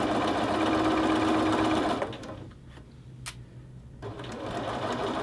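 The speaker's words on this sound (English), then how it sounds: "I am just going to sew this at that 1/4 of an inch" A sewing machine stitching a quarter-inch French seam hums in a fast, even whirr, then slows and stops after two seconds, leaving a few soft clicks and handling noises before the motor quietly resumes.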